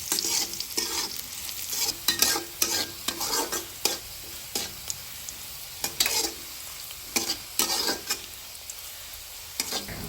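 Onions fry in oil with salt while being stirred, giving a soft continuous sizzle broken by irregular scraping and stirring clatters, fairly quiet and with no voices.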